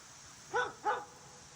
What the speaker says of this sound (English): We hear dogs barking.